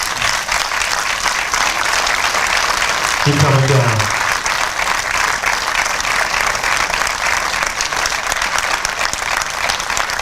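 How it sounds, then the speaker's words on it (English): A crowd at a black-tie awards gala claps steadily and loudly throughout, with a brief spoken remark partway through. "Please give these young men a round of applause."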